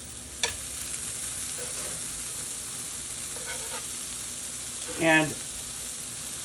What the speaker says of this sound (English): now I'm going to fry them